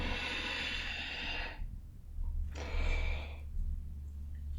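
Slow, deep breaths during a yoga flow: a long airy inhale, a short pause, then another breath, soft and close with no talking.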